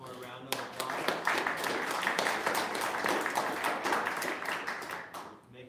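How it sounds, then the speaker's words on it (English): A meetup audience claps for two presenters with a sustained burst of applause from a moderate-sized crowd. It swells quickly, holds steady for several seconds, then fades out, and a voice speaks over part of it. "let's give Beck and Dylan one more round of applause"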